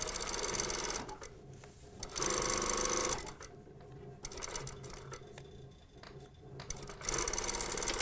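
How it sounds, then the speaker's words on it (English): Sewing machine stitching a trouser pocket bag onto the pocket lining for a slanted side pocket, running in loud bursts of steady whirring broken by short quieter pauses between runs. "I'm stitching the pocket bag onto the pocket lining, and I stitch it down in the middle of the overlocking"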